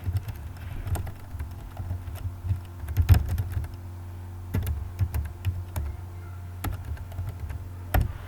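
Numbers typed on a computer keyboard in a word-processing lesson, heard as scattered, unhurried key taps with occasional sharper strikes over a low steady hum, close and clear with no talking.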